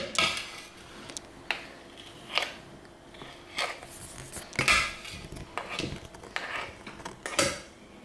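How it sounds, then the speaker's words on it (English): Utensil scraping a bowl while mixing almond croissant cookie paste, a series of irregular scrapes and clinks close up, some sharper knocks among softer rubbing strokes. "Okay, so we're just gonna scrape."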